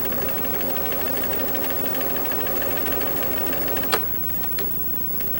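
A home sewing machine runs steadily while stitching an outline just inside a marked line, its busy mechanical whir continuous and close, with a brief sharp click near the end as it pauses.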